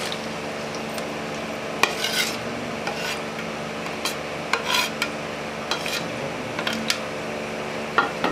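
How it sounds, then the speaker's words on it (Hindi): Onions frying in hot ghee for potato and egg fry, a steady soft sizzle with repeated scraping strokes of a spoon against the pan, close by, with no talking. "प्याज को अच्छे तरीके से फ्राई करेंगे।"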